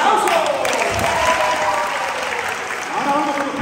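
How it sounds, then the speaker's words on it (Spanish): Youth conference audience in a church hall applauds loudly and continuously, a full sustained wash of clapping with some voices mixed in, then a few calls rising near the end. "¡Un aplauso!"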